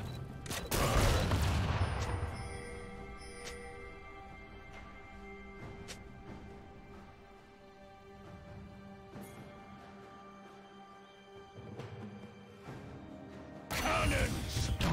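Booming cannon blasts of Gangplank's barrage in League of Legends, loud bursts at the start and end with scattered impacts and mechanical clanks between, under game voices.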